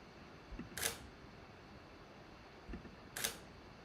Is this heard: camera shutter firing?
yes